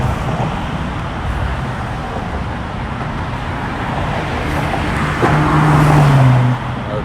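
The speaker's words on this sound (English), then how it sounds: "Lots of cars." Cars stream past on a New York road near the Brooklyn Bridge late at night, a continuous close traffic roar with one louder vehicle swelling by.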